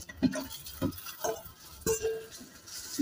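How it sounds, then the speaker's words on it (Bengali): Fried chicken pieces going into a pan of cooked spices bring a few close metallic clinks and scrapes of a spoon against the pan, spaced irregularly over a quiet background. "এবার আমি এর মধ্যে অ্যাড করবো ওই ভেজে রাখা চিকেন গুলো"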